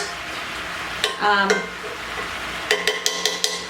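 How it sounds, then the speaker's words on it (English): Candied sweet potatoes being flipped and stirred in a pan: a soft sizzle under scraping utensil strokes, with a cluster of sharp clinks and taps near the end. "Do one more flip right here on these to make sure that every bit of them are flipped over and turned"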